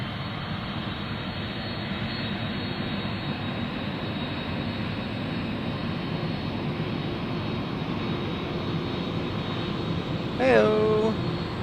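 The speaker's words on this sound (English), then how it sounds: "Here's our 777 from Anchorage landing on runway 9" A Boeing 777 cargo jet from Anchorage lands on runway 9 at Memphis, a steady distant roar of jet engines that carries on throughout. A short burst of voice or chatter breaks in near the end.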